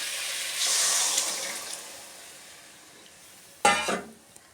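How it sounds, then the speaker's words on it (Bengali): Boiled lentils for a vegetable dal are poured into a pan with a soft, wet splashing rush, followed later by a shorter second pour, close and without speech. "আমি যে ডালটা পিসারি সেদ্ধ করে রেখেছি আমি ডালটা দিয়ে দেবো"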